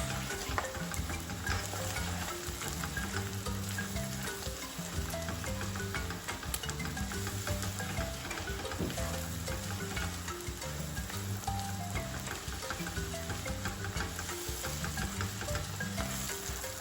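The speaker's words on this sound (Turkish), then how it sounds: "Tekrardan kavurmaya devam ediyoruz." Minced meat with cumin and chili powder sautés in a pan with a steady, even sizzle throughout, while a constant background hum carries beneath the frying.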